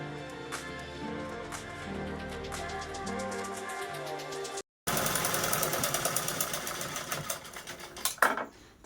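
A sewing machine runs a straight stitch along sari cloth being made into a gas cylinder cover. Background music plays first, then the machine whirs in a dense, rapid, fairly loud burst lasting roughly four seconds.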